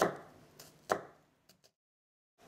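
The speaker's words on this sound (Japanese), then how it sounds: "ではこれをねみじん切りにしていきますね芯をつけたままで切り込みを入れていき" A knife finely chopping a red onion on a board, a few sharp close cuts followed by lighter taps and then near silence.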